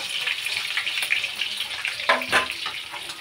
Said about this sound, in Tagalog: Galing sa bukal pala guys.